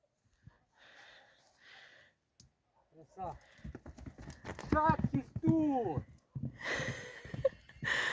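Horse hooves clop in uneven bursts alongside snorts and breathing at a riding stable, while a voice talks over much of the activity.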